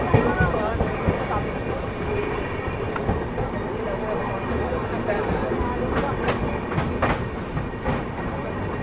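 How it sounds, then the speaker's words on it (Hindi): Dehradun Shatabdi Express pulling into Meerut City junction, a steady rumbling roll with faint rail clatter and occasional higher squeals, loud and continuous throughout. "चलिए दोस्तों, ट्रेन अपनी मेरठ सिटी अराइव कर रही है,"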